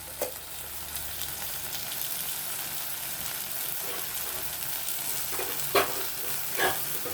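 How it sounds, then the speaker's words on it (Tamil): Vegetables sauté in oil in a covered pan for a dosa chutney, giving a steady, soft sizzle throughout with a couple of brief clinks near the end; no one speaks. "இது இப்போ வந்து மூடி வச்சு எண்ணெயிலேயே கொஞ்சம் நல்லா வதங்கட்டும்"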